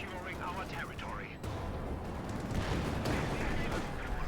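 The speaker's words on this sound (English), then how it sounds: "He's going for the mortar." Mortar and artillery fire in Company of Heroes 2 during a Wehrmacht versus US Forces match, heavy booms and shell impacts over a constant battle din, with a caster's voice talking throughout.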